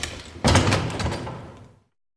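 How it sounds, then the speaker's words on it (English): A heavy old root cellar door creaks and scrapes as it is pulled open and lowered shut, one sharp wooden onset followed by a fading rumbling drag that ends in silence. "they both barely managed to pry it open and climb down, lowering the door closed behind them"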